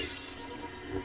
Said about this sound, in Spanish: Vámonos a romper cristales.